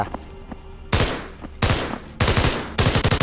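Automatic gunfire from the video game SCP Nine Tailed Fox mod: four loud, rapid bursts of shots in quick succession, each cut off sharply, over a faint background hum.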